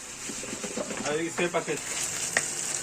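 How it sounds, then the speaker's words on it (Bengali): Potatoes fry in a pan with a continuous oily sizzle, stirred now and then, while a person talks over it and a pigeon coos in the background. "আলুটা একটু ভাজা ভাজা হয়ে যাক"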